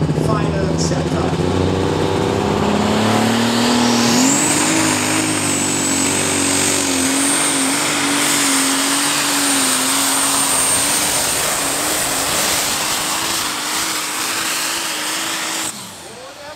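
The new pulling tractor Best Solution roars at full power at a tractor-pulling event in Krumbach, a loud sustained engine howl that rises in pitch early and holds steady before cutting off near the end.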